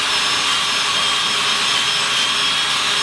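Steady broadband rush of an electric fan blowing close by, loud and unbroken for the whole stretch, with no voices.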